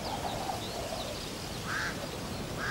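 Ducks quack a few times in the distance over a steady outdoor background hiss, with no talking.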